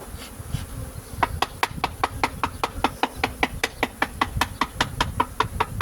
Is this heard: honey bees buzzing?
yes